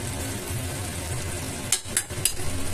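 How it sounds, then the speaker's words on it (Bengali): Potol posto, pointed gourd cooked in poppy seed paste, being stirred in a pan, giving a steady soft sizzle with a few brief scraping strokes near the end, close and moderately loud with no talking. "5 মিনিট পরে এসে আমি আবার নাড়াচাড়া করে দিচ্ছি।"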